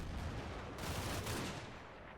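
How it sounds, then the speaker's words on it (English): Artillery barrage in the Combat Mission Red Thunder war game: a continuous rumble of distant shell bursts and gunfire rolls on through the clip, with a fuller, louder stretch in the middle. "Some more arty"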